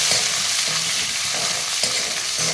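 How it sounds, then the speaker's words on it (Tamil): Chopped onion and curry leaves sauté in hot oil with mustard seeds, a steady loud sizzle with regular spatula strokes scraping through the pan every half second or so, no voices. "நல்லா வதக்கலாம்."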